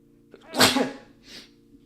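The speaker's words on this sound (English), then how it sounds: "Gonna sneeze." A single loud close sneeze from a man, with a sharp inhaled build-up, an explosive burst and a short trailing exhale, over a low steady electronic hum in a quiet room.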